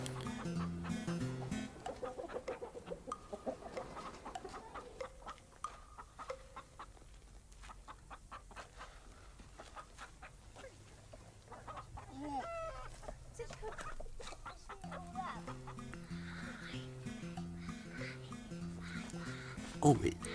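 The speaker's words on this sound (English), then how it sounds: "Golly, those are hungry chickens." Chickens cluck and squawk throughout, several birds close by, while people talk over them and a rooster-like call rises now and then.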